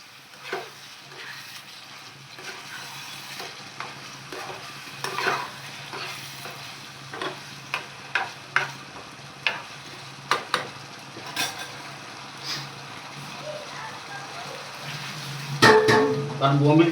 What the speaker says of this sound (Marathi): आता आपण थोडे हलवून घेऊया.